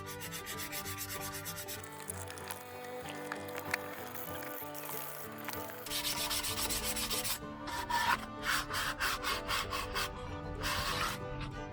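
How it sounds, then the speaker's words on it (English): Sandpaper rubs over a wooden model, first as a soft continuous scrubbing, then as quick rhythmic back-and-forth strokes, close but fairly quiet. "fair and sand."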